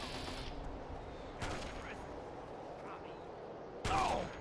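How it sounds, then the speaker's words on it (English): Gunfire in Fallout 3: a few sharp, separated shots, one loud blast near the end, over a steady hiss of background noise. "Who's shooting at Ben?"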